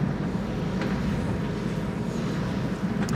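A KLM Boeing 777-300ER, registration PH-BVK, arriving on the Polderbaan runway 18R at Schiphol: a steady, broad jet-engine roar with a strong low rumble, continuous and fairly loud, no talking.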